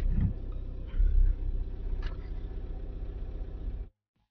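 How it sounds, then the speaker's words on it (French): A Ford diesel engine idles after starting, a close, steady low rumble with a brief swell near the start before cutting off abruptly near the end. "le véhicule a démarré correctement"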